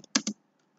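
Two quick clicks of keys on a computer keyboard as an email ID is typed into a registration form, close and crisp, followed by near silence.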